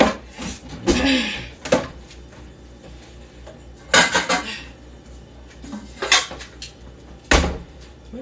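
Metal pots and lids clatter and bang in a kitchen as someone rummages for the right lid, with several loud, irregular clanks and scrapes separated by quieter pauses.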